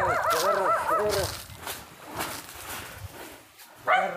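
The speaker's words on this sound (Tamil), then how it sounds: "அப்பா இங்கே ஒரு நாய் இருக்கு." A dog barking several times in a row near a house in dense forest, clear and fairly close, with faint outdoor background noise and one more short yelp at the end.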